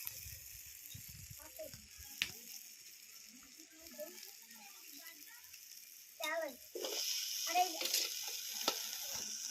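Chopped pumpkin greens drop into spiced oil frying in a pan, giving a close sizzle and stirring scrapes that swell louder and steadier toward the end, with a faint voice early on.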